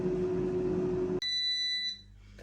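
A loud air fryer hum, while cooking gammon, cuts off abruptly, followed by a steady high-pitched electronic beep that holds for under a second, then fades.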